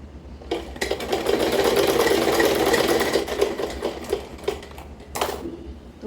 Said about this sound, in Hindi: अब मैं इसे ऐसे स्टिचिंग लगा लूँगी